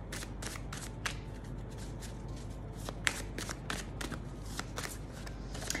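Oracle cards are shuffled by hand in a quiet room, a soft, steady stream of papery riffles and flicks with small sharp snaps, close and low in level, with no talking.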